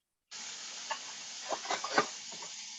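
Pork tenderloin, just flipped in a hot pan, gives a close steady sizzle and hiss, with a few brief spits and crackles in the middle.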